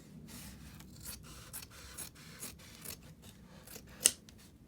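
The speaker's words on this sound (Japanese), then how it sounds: "手で折ってハ サミを入れて切っていきます。" Scissors snip through felt fabric in short, soft, crisp cuts, quiet and close, with one sharper snap near the end.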